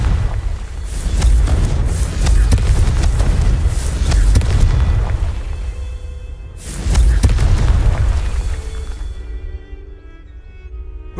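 Confringo blasting-spell explosions in Hogwarts Legacy, two heavy booming blasts with deep rumbling low end, each rolling on for several seconds before decaying into quieter game ambience.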